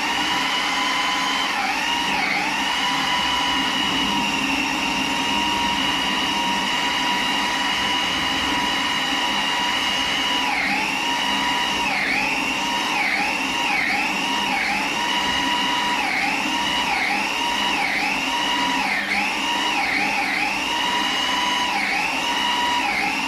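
A blender runs continuously, loud and close, mixing the top layer of a raw vegan cake with cherries among the ingredients; its motor pitch dips and recovers repeatedly as the thick mixture catches and frees, with no talking.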